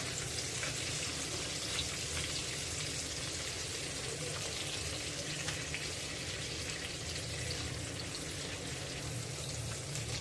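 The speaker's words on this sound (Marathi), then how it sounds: "खालच्या बाजूने देखील मासा चांगला फ्राय झालेला आहे" Whole tilapia fish fries in a pan with a loud, steady, dense sizzle and crackle that continues unbroken throughout, with no voices.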